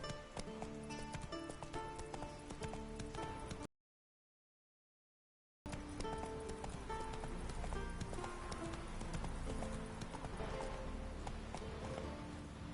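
Roach, the horse in The Witcher 3, gallops in a steady rapid hoofbeat rhythm, interrupted by a couple of seconds of silence before the galloping resumes.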